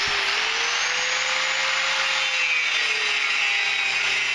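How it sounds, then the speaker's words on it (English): Angle grinder cutting a big piece of steel for a Bowie knife blank, a loud, continuous high-pitched grinding screech with a steady motor whine, close up and without a break. "Cut this big piece of steel."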